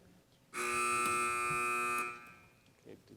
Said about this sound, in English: did someone buzz in? I can't see the buzzer.